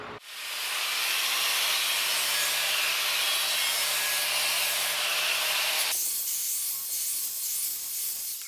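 An angle grinder dressing sharp edges and burrs off steel pieces for a small forge build gives a loud, continuous abrasive roar that holds steady for several seconds, then shifts to a slightly different, rougher tone for the final stretch.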